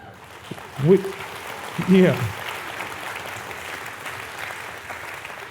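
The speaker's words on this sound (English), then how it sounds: "Now the kids are clapping." Kids clapping at a school announcement event, a soft continuous patter of applause in the background while an adult voice speaks briefly over it twice early on.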